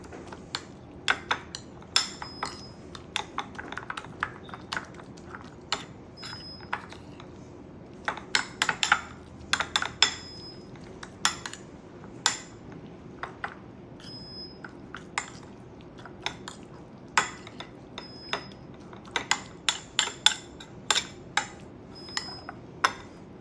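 A spoon mixing ingredients with lemon juice in a bowl, giving sharp, irregular clinks and taps against the bowl over a long stretch, close and distinct against a quiet background.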